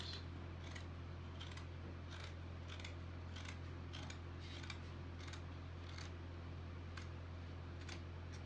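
Scissors cut through fabric for a boxy crop top, giving a run of crisp, evenly spaced snips at a brisk rhythm over a constant low hum.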